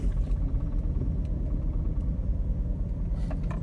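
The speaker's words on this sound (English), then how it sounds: "Car can go forward." Older car with a slipping transmission driving forward, a steady low engine rumble and road drone heard from inside the cabin, continuous and moderately loud with no talking.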